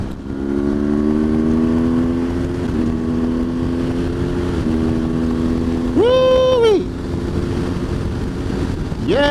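A loud motorcycle engine drones steadily, then briefly revs up to a higher pitch around the middle, with wind buffeting throughout.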